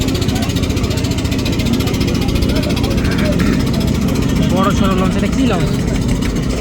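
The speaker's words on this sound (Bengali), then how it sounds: "ওই দিক দিয়ে একটা লঞ্চ আসতেছে" A large passenger launch, apparently the Manami, approaches on a river in Bangladesh, its steady engine drone and water rush running throughout, with people talking nearby over it.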